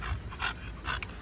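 A micro bully dog pants rapidly and steadily up close, with quick rhythmic breaths and no talking.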